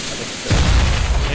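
A grenade blast in CS:GO lands as a sudden, loud low-end boom about halfway through, rumbling on to the end under faint background chatter.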